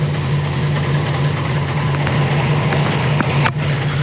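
Steady low rumble of a Volkswagen Golf 2 GTI 8-valve engine idling nearby, continuous and even throughout, with no talking.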